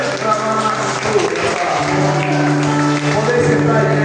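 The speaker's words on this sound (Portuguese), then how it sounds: "Aplauda ao Senhor, é para ele. O aplauso é para o Senhor." Church congregation applauding during a service, loud and continuous clapping over sustained organ or keyboard chords, with a voice faintly mixed in.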